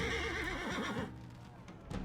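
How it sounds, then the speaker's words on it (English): A war horse in a medieval battle video game panics after an arrow headshot, letting out a loud, close, wavering neigh that breaks off midway, followed by quieter battlefield noise. "Oh, I headshotted the horse and then the horse panicked."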